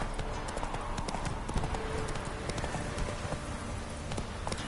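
Hooves of Roach, a horse in a video game, clip-clopping in a quick, steady trotting rhythm throughout, with a soft rain-like hiss behind and no clear talk.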